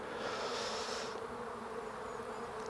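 Honey bees buzz steadily inside an open hive during a spring inspection, a dense continuous hum that stays close and even throughout with no voices.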